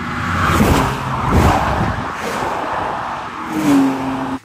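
A Ferrari drives past at a racetrack, its engine note rising and falling loudly and close by, with tire noise and other cars mixed into the busy circuit ambience.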